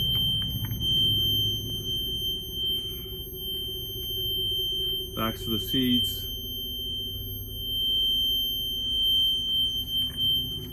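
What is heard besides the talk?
Micro Bird school bus emergency alarm sounding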